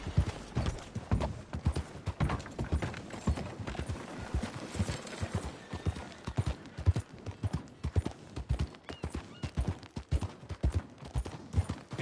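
Horse hooves clip-clopping steadily while being ridden, a quick, even rhythm of moderate, close hoofbeats continuing throughout.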